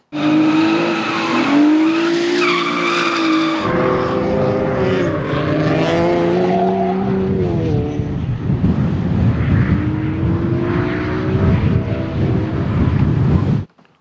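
A Nissan 350Z drift car slides with loud, sustained tire squeal over a roaring engine whose pitch rises and falls, heard close and continuous with no talking.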